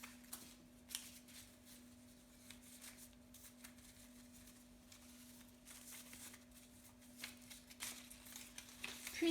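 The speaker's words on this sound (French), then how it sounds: "Mélange les cartes." Playing cards are shuffled in repeated quiet riffling bursts against a faint steady hum, soft and close.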